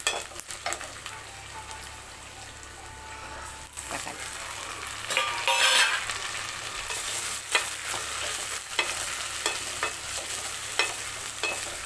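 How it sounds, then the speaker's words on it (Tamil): Onions and tomatoes sauté in a hot pan during home cooking, giving a continuous close sizzle with scraping stir strokes and occasional louder spatters, and no one talking. "வெங்காயம் தக்காளி வதங்கிடுச்சு"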